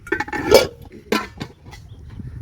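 Heavy metal cooking pots, a large wok and plates clank and clink as they are handled, in a few sharp knocks and rattles close by with pauses between them.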